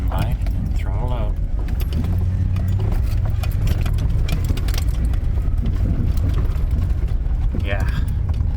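Camper van engine revving under load on a rough, rutted road, with a continuous low rumble, rattling and knocking of the body over bumps, and a voice talking briefly over the noise.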